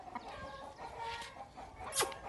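Black home-bred Aseel hens cluck softly nearby, low murmuring calls rising into one sharper squawk near the end, faint under light background noise.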